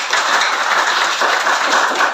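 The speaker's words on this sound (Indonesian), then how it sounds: "Tepuk tangan untuk kelompok" A classroom group claps together in steady, dense applause that holds at an even level for about two seconds, with no voices heard.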